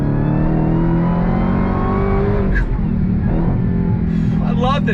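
A 2022 Dodge Challenger Hellcat Jailbreak with a supercharged 6.2-litre Hemi V8 revving hard on throttle, a loud sustained engine roar with rising harmonics and a brief shift near the end, close by and alone.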